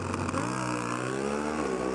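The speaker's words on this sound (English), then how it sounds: "They roll into stage in the final here of Pro Stock Motorcycle." Pro Stock drag racing motorcycles idling loudly as they roll into stage for a final, a steady droning engine note that shifts pitch slightly partway through, with no talking.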